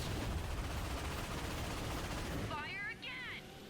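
Enemy missile fire in Ratchet and Clank (2016) comes as a dense, sustained barrage of loud blasts and explosions, which eases slightly near the end, leaving a faint electronic warble.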